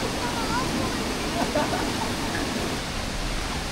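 Gabaldon Falls in Nueva Ecija, reached after climbing over river rocks, gives a steady, broad rushing roar of falling water, close and constant throughout.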